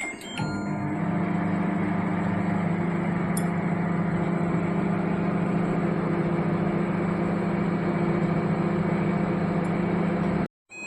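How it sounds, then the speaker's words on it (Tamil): A microwave oven running at 900 watts while cooking sweet corn gives a steady, close mechanical hum with a constant drone. It stops abruptly near the end. "மைக்ரோ ஆப்ஷனில் போனீங்கன்னா மைக்ரோவேவ் 900 வாட்ஸ் வரும்"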